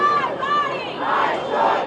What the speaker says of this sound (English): crowds of passionate pro-choice supporters gathering across South Florida after hearing Roe v. Wade was overturned by the Supreme Court